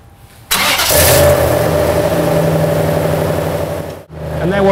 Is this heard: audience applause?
no